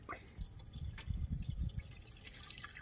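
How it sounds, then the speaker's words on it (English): Window washer fluid glugs and splashes as it is poured into the reservoir of a Subaru Impreza, Crosstrek, Forester or WRX, a close, irregular bubbling gurgle with no talk. "And I'm just filling and filling."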